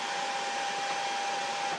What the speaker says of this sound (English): you can use a hairdryer on its lowest setting with the BLUETTI